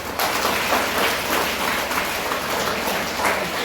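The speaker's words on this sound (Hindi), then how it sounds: "जोरदार ताली होनी चाहिए।" Applause from a school audience, a dense continuous wash of many hands clapping at once, loud and sustained without pause, with no voices standing out.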